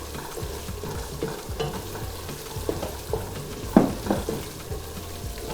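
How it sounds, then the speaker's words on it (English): Onion being added to a pot and stirred while frying for egusi soup, a soft steady sizzle with scraping and stirring knocks that peak near the end. "So I go in with my onion"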